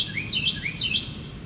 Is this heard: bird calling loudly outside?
yes